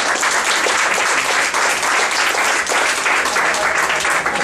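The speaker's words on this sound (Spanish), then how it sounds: "Un aplauso para Marcela." Audience clapping loudly and steadily at a Médicos Sin Fronteras event in Spanish, a dense continuous burst of applause filling the whole moment without letup.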